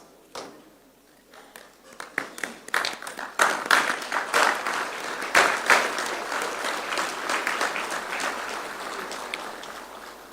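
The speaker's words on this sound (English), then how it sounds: "I request all to kindly rise and give the standing ovation to my lords." An audience at a formal state-level conference rises for a standing ovation. Applause starts with a few scattered claps, swells quickly into full steady clapping, then gradually thins out.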